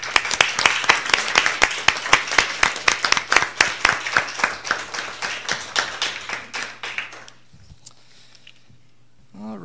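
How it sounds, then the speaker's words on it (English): Audience at a school board meeting claps for students, a dense burst of many hands close by that thins into scattered claps and fades to near silence after about seven seconds. "please join me in clapping for them"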